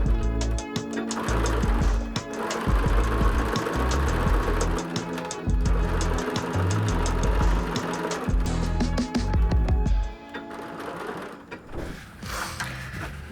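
A sewing machine stitches a large Luella clutch bag, its busy mechanical chatter running fast and close, broken by brief pauses and a slowdown near the end.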